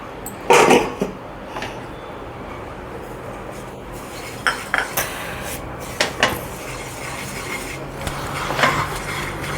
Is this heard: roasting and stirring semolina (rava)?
yes